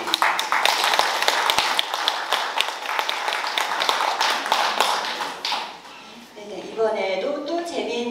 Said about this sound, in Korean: 김수희 교수님께 다시 한번 큰 박수 부탁드립니다.